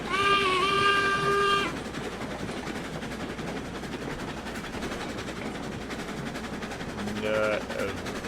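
A steam train in RailRoads Online sounds a loud whistle blast, then chuffs and rolls on steadily, with a second short whistle toot near the end.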